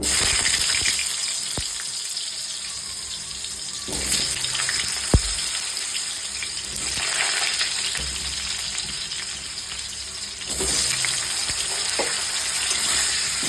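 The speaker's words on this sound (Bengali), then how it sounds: "এইবার দিয়ে দেব আলু ভাজার জন্য।" Potatoes frying in salted oil in a wok give a steady, loud broadband sizzle that runs continuously, with a few sharp knocks and clatters mixed in.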